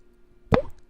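A single wet plop imitated by mouth, short and close, with faint background hum and nothing else around it.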